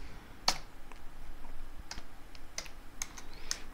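Code being typed on a computer keyboard while a Laravel data table is set up: sparse, separate keystroke clicks at an irregular pace, fairly quiet and close, with no talk over them.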